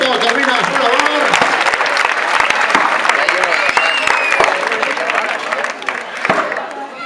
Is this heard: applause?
yes